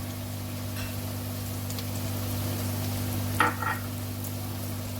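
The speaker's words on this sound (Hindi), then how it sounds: "लाइट गोल्डन कलर में इसको फ्राई कर लेंगे।" Stuffed okra fries in a pan with turmeric, a steady soft sizzle over a low constant hum, with a brief louder crackle and stir partway through.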